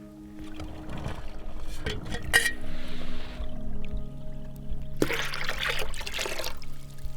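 Water trickles and splashes in bursts as it is collected by hand in a forest with no running water, with brief louder pours near the start and again midway, heard alone without talk.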